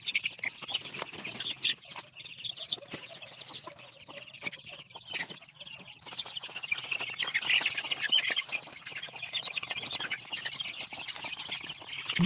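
Chicks and chickens on a chicken farm chirp and cluck steadily in a busy, continuous chorus, with scattered wing flaps and rustling throughout, growing a little louder toward the end.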